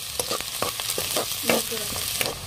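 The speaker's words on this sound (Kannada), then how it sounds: "ಹಾಕೊಂಡ್ರೆ ಉಳ್ಳಾಗಡ್ಡಿ ಒಂದು ಸ್ವಲ್ಪ ಕೆಂಪಾಗಬೇಕು ನೋಡ್ರಿ, ಆ ಥರ ಫ್ರೈ ಮಾಡ್ಕೊಳ್ಳೋಣ್ರಿ." Chopped onions fry in oil in a pan with a close, continuous sizzle, broken by sharp scraping strokes of a spatula at an uneven rhythm, with no talking.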